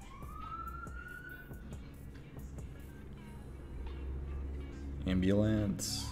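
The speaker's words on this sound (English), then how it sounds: "I live near a hospital, so there's often ambulances that come by." A siren wails with rising and falling tones, growing louder as it passes nearby over steady traffic rumble, with a voice speaking briefly near the end.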